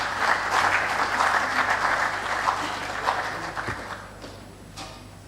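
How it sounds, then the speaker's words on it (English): A room full of people applauding at a national defence and security summit in an auditorium, clapping steady and moderately close before tapering off toward the end. "please join me with a round of applause"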